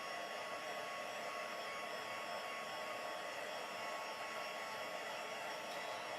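Steady, continuous whoosh of a heat tool blowing hot air over embossed cardstock, close and even throughout with no pauses or talking.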